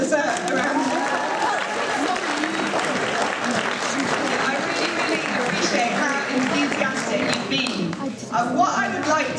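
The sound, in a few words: audience applause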